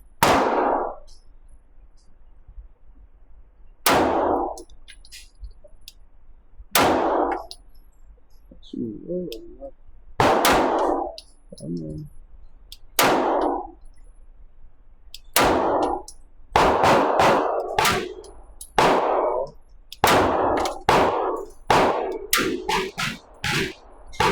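A Sig Sauer P211 GTO pistol fires at steel targets: sharp shots sounding one by one, each followed by a metallic ring from the steel, spaced out at first and then coming in a rapid string near the end.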